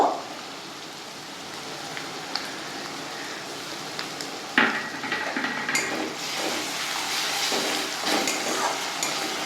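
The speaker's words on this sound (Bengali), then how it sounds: "পেঁয়াজগুলো ব্রাউন কালার এসে গেছে এবার এর মধ্যে আমি আদা রসুন কাঁচা লঙ্কার পেস্টটা দিয়ে দেব" Ginger, garlic and green chilli paste goes into browned onions for ghugni, a quiet crackle that jumps to a louder, busier sizzle with scattered stirring clicks partway through.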